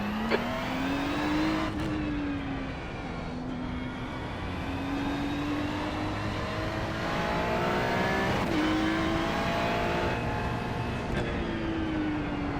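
Ferrari 296 race car engine in the iRacing sim, a steady loud engine drone with rising and falling pitch through gear changes, continuous and close throughout with no talking.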